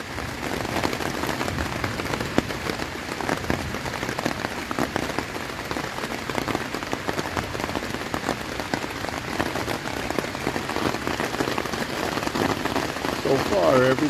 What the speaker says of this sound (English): This is the sound of the storm from last night.